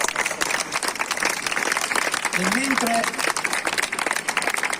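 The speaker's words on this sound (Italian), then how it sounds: "grande applauso." An Italian awards-ceremony audience applauds a film composer receiving a prize, a steady dense clapping bed while someone speaks briefly over it.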